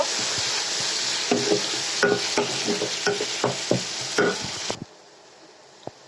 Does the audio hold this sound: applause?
no